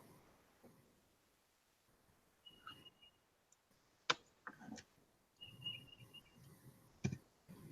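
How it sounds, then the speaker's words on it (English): Birds call outdoors near a home: a few brief chirps and trills scattered over quiet background with occasional clicks and soft handling noises, no talk. "I love the sound of the birds."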